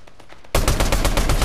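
Gunfire from a shooter video game: faint distant shots, then a sudden loud close burst of rapid automatic fire continuing to the end.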